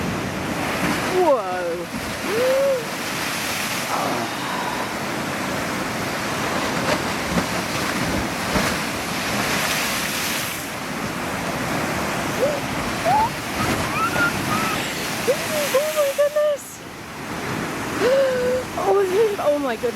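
Big ocean waves surge and rush up a rocky shoreline on a coastal walk, a steady roar of surf with wind buffeting the microphone, while a person exclaims and talks over it.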